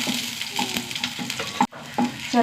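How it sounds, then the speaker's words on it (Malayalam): Small onions and curry leaves fry in a pan, a close sizzling crackle broken by spoon scrapes and stirring knocks, with one brief drop near the middle before the frying resumes. "ഒരു രണ്ട് കറിവേപ്പില ഉള്ളി നന്നായി മൂത്ത് വരട്ടെ"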